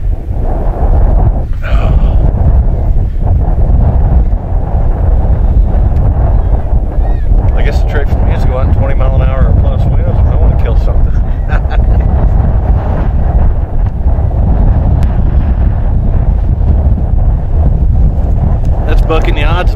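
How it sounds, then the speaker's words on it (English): Strong, steady wind buffets the microphone on the open Eastern Plains during a coyote hunt, a constant loud roar and rumble that never lets up for the whole stretch. "It's a real windy day today."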